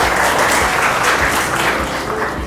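Schoolchildren in an Indonesian classroom clapping for their classmates, a loud, close, continuous burst of many small hands with a few heavier claps standing out, no talk over it.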